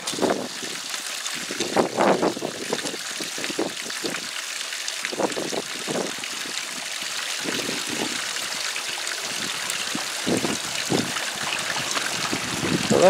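Pump-fed water runs steadily through a Le Trapp sluice, a constant close rush and trickle with louder splashy bursts scattered throughout.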